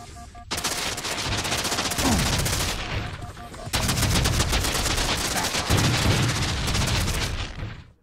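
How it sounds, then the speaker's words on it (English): Rocket area-of-effect fire damage effect from the 2007 Shadowrun prototype shooter game, a loud continuous crackling roar like rapid gunfire, cutting out briefly and then bursting back in twice. "the sound effect used for the AoE fire damage is infuriating to listen to"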